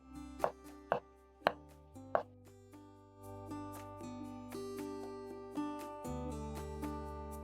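Kitchen knife slicing tomatoes on a board while preparing Kenyan mrenda, four sharp chopping taps early on, then softer steady cutting sounds under a sustained low background tone.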